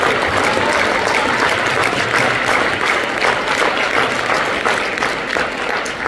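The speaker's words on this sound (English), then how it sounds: "a big round of applause for all the students on stage and sitting here" An audience in a high school performing arts hall gives a sustained round of applause for students at a spring concert, dense and steady throughout with no speech over it.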